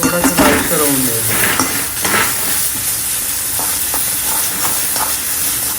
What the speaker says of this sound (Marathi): आता सगळ्यात आधी कांदा परतून घेतो